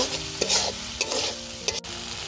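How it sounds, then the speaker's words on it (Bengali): Ground chili, turmeric, coriander and salt frying in a pan for a Bangladeshi fish dish, with a loud close sizzle and several brisk stirring scrapes, with no voices. "মশলাটা ভালোভাবে কষিয়ে নিচ্ছি"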